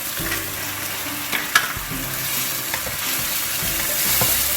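Chicken chow mein with soy sauce, vinegar, chilli sauce and black pepper fries in a hot pan with a steady, loud sizzle, broken by a few sharp clinks and scrapes of stirring, with no talking.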